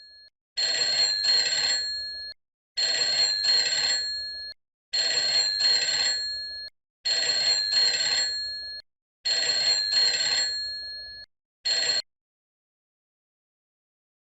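A telephone in a home rings in five long electronic bursts with short pauses between them, loud and alone, then one brief chirp before it cuts off into silence.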